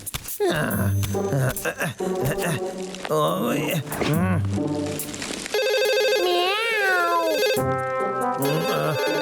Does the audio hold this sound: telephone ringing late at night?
yes